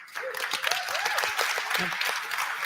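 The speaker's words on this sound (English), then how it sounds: "So a massive round of applause for Amelia." Audience applause for a hackathon organiser during an online community show, a continuous wash of clapping from several people with voices mixed in and faint talking underneath.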